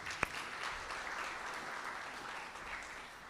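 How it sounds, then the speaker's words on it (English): A legal education conference audience applauds, a sustained even wash of clapping from a large hall, moderately quiet, with one sharp knock near the start. "who I think deserves an applause."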